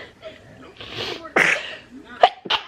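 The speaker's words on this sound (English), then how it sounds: "I just sneeze." A woman lets out a couple of quick, close sneezes indoors, sharp bursts breaking through soft breathy sounds.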